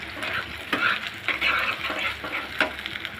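Eggs frying in a pan are stirred with a metal spatula, giving soft sizzling under repeated scraping strokes in a loose, uneven rhythm, close and fairly quiet, with no talking.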